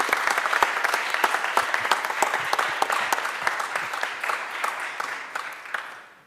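An audience applauds a city solicitor at a Philadelphia city officials' press event on a ghost gun settlement, dense clapping with sharp individual claps standing out, steady and then fading at the end.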